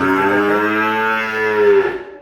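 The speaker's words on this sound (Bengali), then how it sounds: "খুব সুন্দর একটা বকনা বাছুর নয় মাস বয়সের" A nine-month-old Friesian heifer calf gives one long, loud moo up close that trails off at the end.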